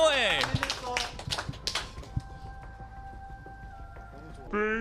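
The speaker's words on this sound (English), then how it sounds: "All right, round of applause, everybody." An esports championship audience gives a brief burst of clapping after an interview with the Los Angeles Gladiators, sharp claps fading under someone talking, followed by a sustained tone and more speech.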